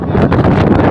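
Strong wind blows by the sea near the Rukmini temple on Koyla Dungar, a steady broadband roar buffeting the microphone for the full second without a break.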